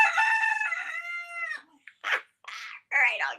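A rooster crows loudly and close by in the morning, one long drawn-out call, followed by several short, separate squawks and clucks.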